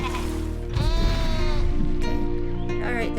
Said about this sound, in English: Looks like my sheepy babies have escaped their pen. Would you be a dear and chase them back in?